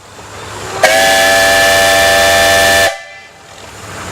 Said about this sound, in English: So this is the whistle that he would give in the morning, telling the crew, telling the whole countryside, steam's up.